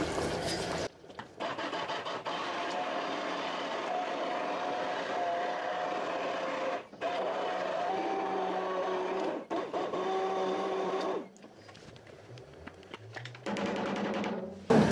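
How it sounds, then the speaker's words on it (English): A stick blender purées pasta sauce in a pot with a steady, loud motor whir that runs nearly continuously, dropping briefly a few times and pausing near the end before starting again. "we're just going to take the stick blender and blend it."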